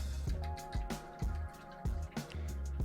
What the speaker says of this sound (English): I'm gonna rinse off my brush.